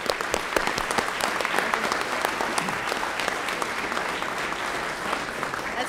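Sustained applause from an audience at a public safety officers of the year awards ceremony, steady and fairly loud clapping throughout with no speech over it.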